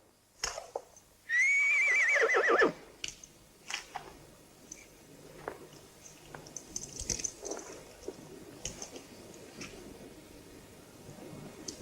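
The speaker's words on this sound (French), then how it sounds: "Descends de cheval, Clint." A horse whinnies loudly in a western film scene, one long rising-and-falling neigh lasting over a second, followed by scattered faint knocks and rustles against a quiet outdoor background.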